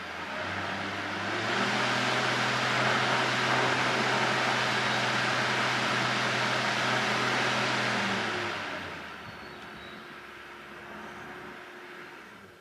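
BougeRV portable fan switched to a higher speed, its steady broadband whoosh swelling louder for several seconds before easing back down to a lower hum near the end.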